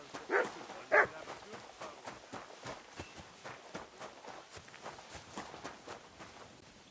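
A dog in Kingdom Come: Deliverance II gives two short barks early on, followed by rhythmic footsteps and scuffling at moderate level with no talk.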